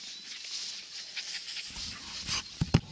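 Dogs moving about close by outdoors during a radio antenna test, with faint panting and snuffling followed by a few short, louder thumps or yelps near the end.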